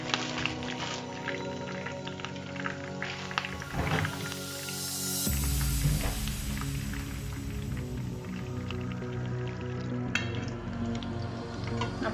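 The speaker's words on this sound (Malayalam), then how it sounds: "ഇനി നമുക്ക് അതേ എണ്ണയിൽ തന്നെ കുറച്ച് കറിവേപ്പില കൂടെ ഫ്രൈ ചെയ്തെടുക്കണം" Curry leaves fry in oil over a low flame for a Kerala-style curry-leaf chicken fry, giving a steady soft sizzle and crackle with occasional pops throughout.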